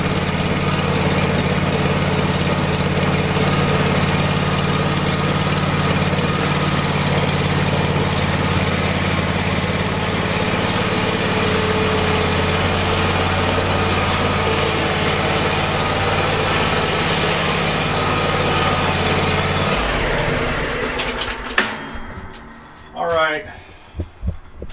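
Scag V-Ride II stand-on mower engine running steadily and loud for about twenty seconds, then cutting off, followed by a few faint handling noises and a brief higher sound near the end.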